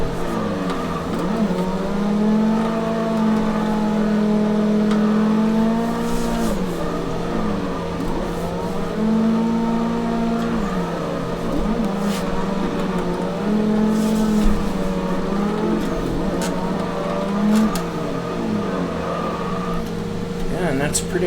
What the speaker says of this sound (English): I pretty much let the car slide for like 2 seconds before I catch it again.